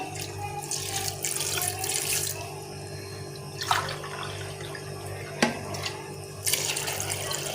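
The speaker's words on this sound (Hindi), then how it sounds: "2 गिलास हम पानी के डाल देंगे इसमें।" Water pours from a glass into a jar for a jaggery and lemon drink, a splashing gush with short bursts and pauses, close by and fairly quiet.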